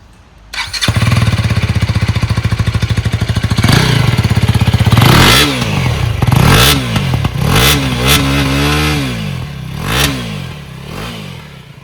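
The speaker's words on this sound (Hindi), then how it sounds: "आपण मन के एग्जॉस्ट नोट सुने दो यार सुनी दियन" A 2024 Husqvarna Vitpilen 250 motorcycle idles with a steady thumping exhaust, then is blipped repeatedly through a series of sharp, loud revs that rise and fall, close to the bike with no talk.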